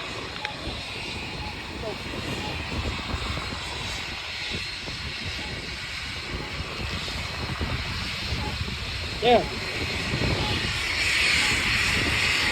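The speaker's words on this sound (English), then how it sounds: "I'm gonna wait for the plane to take off." A fixed-wing airplane idling on the ground at Hawthorne Municipal Airport makes a steady engine drone heard from a nearby street, with a single brief word spoken over it and the noise swelling slightly near the end.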